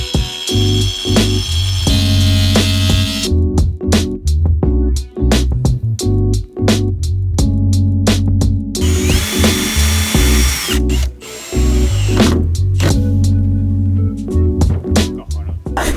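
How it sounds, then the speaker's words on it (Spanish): A power driver sends self-tapping screws through wall panels into the steel frame of a shipping-container home, with loud, close whirring bursts repeating one after another and separated by short gaps. "Un tornillo autorroscante que atraviesa el panel y lo fija a la estructura."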